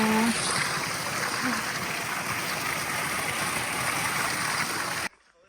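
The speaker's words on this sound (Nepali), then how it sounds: "खोलाको चिसो पानी भनेर हामी चाहिँ पानी खान लाग्छ" Cold water in a mountain stream flows and rushes in a steady, close-up wash that stops abruptly near the end.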